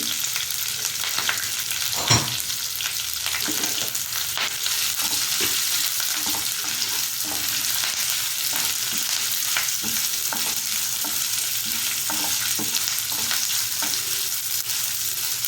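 Spices and dried red chillies crackling in hot oil for an amla pickle, a loud continuous sizzle with stirring taps and one sharper knock early on, close and unbroken.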